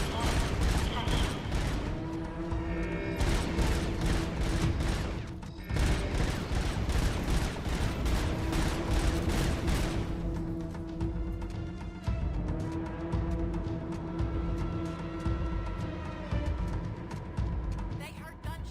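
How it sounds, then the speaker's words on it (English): Dense, continuous bursts of rapid gunfire with booming impacts throughout in the video game RoboCop: Unfinished Business, loud and sustained, like a busy game firefight with a voice faintly underneath. "They heard gunshots."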